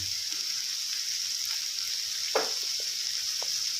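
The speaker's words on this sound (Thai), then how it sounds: "ช่วงนี้ก็ผัดไปเรื่อยๆนะครับ ผัดไปเรื่อยๆนะครับ" Pork rib red curry with pickled bamboo shoots is stir-fried in a pan after soy sauce and fish sauce go in, giving a steady close sizzle with a few soft scrapes of stirring.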